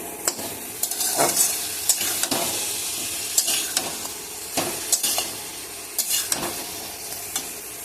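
Greens cooked with potato and tengra fish stirred in a pan, a spatula scraping in repeated strokes over a steady sizzle, close and fairly loud with no talk.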